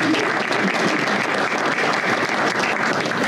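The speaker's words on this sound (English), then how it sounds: "Please join me in a round of applause." A room of guests at an expo breakfast-luncheon gives a sustained round of applause, dense and even clapping heard up close without talk.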